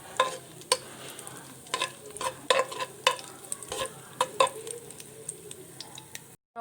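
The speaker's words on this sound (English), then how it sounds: "Now fry this up into golden color." Bread pieces and cashews fry in oil until golden, a soft steady sizzle broken by frequent sharp clicks and taps of a spoon against the pan, close and clear, with no talking.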